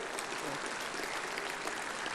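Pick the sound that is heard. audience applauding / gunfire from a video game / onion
audience applauding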